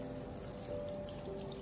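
Leafy greens being rinsed under clean water in a kitchen, giving a steady close splashing trickle throughout, with no voices.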